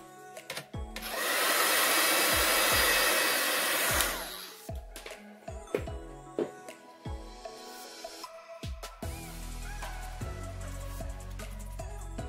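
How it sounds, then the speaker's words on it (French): Heat gun blowing for a few seconds to dry paint on a faux-metal vintage craft frame, a loud steady whoosh followed by scattered handling clicks and taps. "Je vais venir sécher au hot gun."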